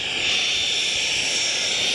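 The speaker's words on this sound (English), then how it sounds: "here comes that F-86 that was flying over us" An F-86 Sabre jet flies in to land at an air show, a loud, steady roaring whoosh of jet engine noise filling the whole stretch without a break.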